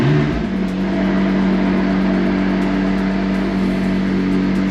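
A McLaren 600LT coupe's engine hums steadily and fairly loud from inside the cabin as the car pulls away, a sustained low drone with no talking.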